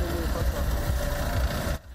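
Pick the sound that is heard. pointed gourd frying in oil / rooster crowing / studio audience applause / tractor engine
tractor engine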